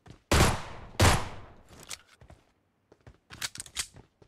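Glock 17 pistol fired in the BGMI battle royale game: two loud, sharp shots about a second apart, followed by a scatter of lighter clicks and rattles.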